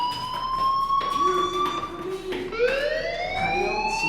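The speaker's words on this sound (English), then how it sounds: "do you hear that fire alarm?" A fire alarm in the video game Life is Strange wails with sweeping electronic tones that rise and shift, steady and fairly loud, without talk.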